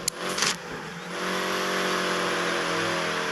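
Engine of an F90 car in a racing video game, a short burst of revving followed by a steady, sustained drone holding at a constant pitch, with no talk over it.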